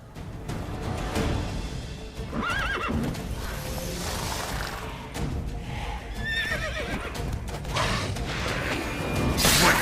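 Roach, the horse in The Witcher 3, neighs and whinnies several times over steady galloping hoofbeats and creaking tack, with game ambience and a rising noise burst at the end; no talk.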